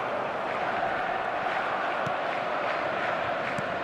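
A stadium crowd roars steadily in the eFootball 2025 football video game, a dense, continuous wall of cheering noise that holds at a constant loud level throughout, with no talk.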